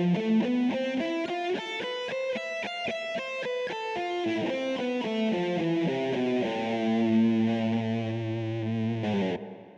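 A distorted electric guitar plays a quick run of notes up and down the Hirajoshi scale, then settles onto sustained chords, loud and unaccompanied.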